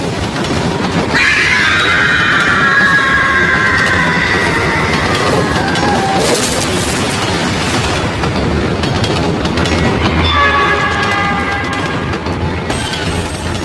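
A moving train rolls past in a horror tale, loud continuous rumbling with screeching metallic squeals rising early and again near the end, no voices.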